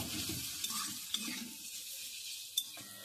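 A spice mixture with red chilli powder is stirred in a pan, a low steady sizzle close by with a few sharp spoon taps against the metal.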